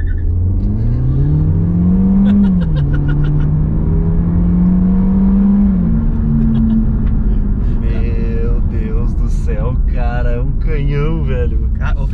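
Citroen C4 Cactus Shine Pack THP 2022 turbocharged engine accelerating hard on a road, a steady loud rising drone with tonal sweeps, heard with people talking over it inside the car.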